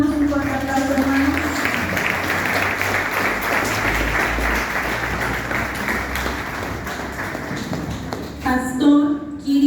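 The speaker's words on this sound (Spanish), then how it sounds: "Damos un fuerte aplauso, hermanos." Sustained applause from a church congregation welcoming pastors at a Bible institute graduation ceremony in Iguala, steady and dense throughout, with a voice speaking over it near the end.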